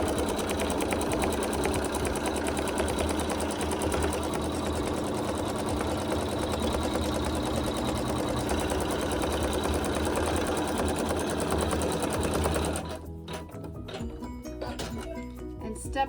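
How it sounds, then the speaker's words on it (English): A sewing machine runs steadily, stitching a square outline on a quilt block to mark where optional wool will go; the continuous whirring lasts about twelve seconds, then stops and leaves quieter handling noises. "the machine is going to stitch an outline for where to place the optional wool"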